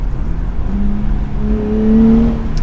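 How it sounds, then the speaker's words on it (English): Engine and exhaust of a 2023 Nissan Z Performance with a manual gearbox, a steady low drone whose pitch rises gently as revs climb, heard from inside the cabin with no talking. "Like the exhaust sound, the engine sound is boring, quite honestly."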